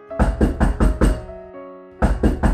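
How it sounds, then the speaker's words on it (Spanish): Knocking on a street door at midnight, played as an audiobook sound effect: two sets of four loud, evenly spaced raps close by, split by a short gap with a low ringing tone. "golpearon a la puerta de la calle"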